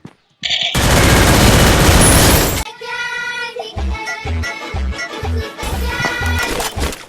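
Gunfire in the Free Fire video game: a long burst of rapid automatic fire, then a series of loud, sharp single shots with pauses between them, close and dominant.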